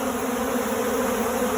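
Honey bees buzzing loudly at a hive damaged by a bear, a close, steady drone with no pauses.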